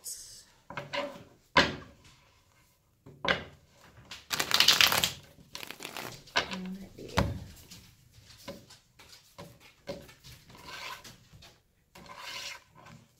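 Tarot cards are shuffled and riffled in bursts of soft rasping flutter, with handling noises and quiet pauses between, close up.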